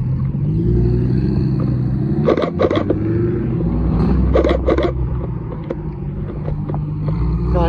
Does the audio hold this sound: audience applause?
no